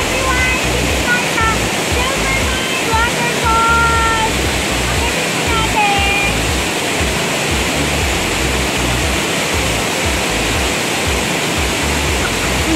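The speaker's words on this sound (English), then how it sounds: "At dinala ko pa talaga dito sa Silvermine Waterfalls" Rushing water at Silvermine Waterfalls in Mui Wo sends up a steady, loud broadband roar that fills the whole scene without a break, with faint voices and a few scattered tones riding underneath.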